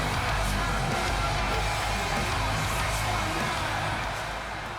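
A large arena crowd in the WWE 2K26 wrestling game fills the air with a steady, dense roar of cheering and yelling, constant and loud throughout with no single voice standing out.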